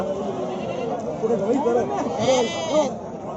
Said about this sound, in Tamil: இது வந்து மோளை ஆட்டு இனத்தை சேர்ந்த ஒரு ஆடு.